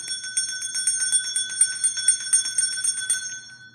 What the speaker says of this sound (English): me go ahead and ring the bell,